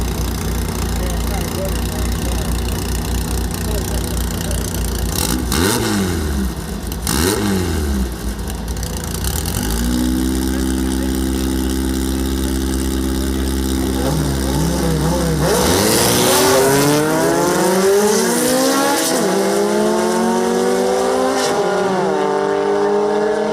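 Pro mod drag racing cars, including a Karmann Ghia wagon against a car called Warbird, idle loudly, then rev and roar away with rising, sweeping engine pitch, while a voice talks over the din.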